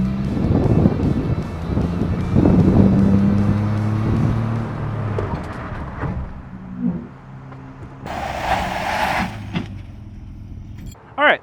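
An off-road Z1 car with newly installed big rear brakes slows hard during bedding-in, a loud low engine and tyre rumble that winds down, followed by a brief burst of hiss and rushing noise near the end.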